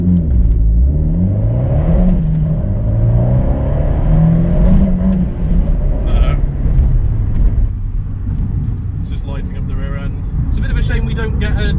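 Abarth 124 Spider fitted with a Bluespark tuning box pulls away gently in first gear, its engine note rising in a steady, sustained drone with a short dip midway, loud and close throughout, with a voice talking over it.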